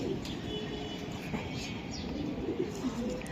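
Racing pigeons coo softly in a loft with a few chirps, fairly close but faint, under low background noise and some indistinct voices.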